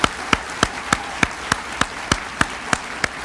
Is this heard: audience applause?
yes